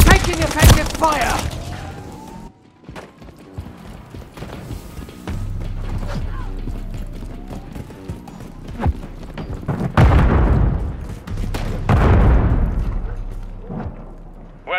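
Gunfire and explosions in Call of Duty Modern Warfare 3 multiplayer, with repeated shots and blasts over a busy game soundscape, under in-game radio voices calling out objectives.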